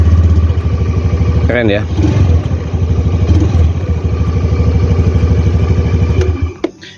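A motorcycle engine started on its electric starter settles into a steady, close idle with a low, even throb, while someone talks briefly over it.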